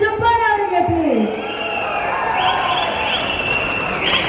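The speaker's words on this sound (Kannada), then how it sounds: "ಬರ್ಲಿ ಚಪ್ಪಾಳೆ ಅವರಿಗೆ ಪ್ಲೀಸ್." Audience applause fills a trailer launch event for the Kannada film Bairadevi, a steady, dense wash of clapping that rises after a brief voice at the start and holds loud and even to the end, with faint tonal sounds above it.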